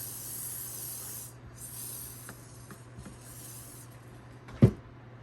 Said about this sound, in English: I'll spray this a little bit with my hairspray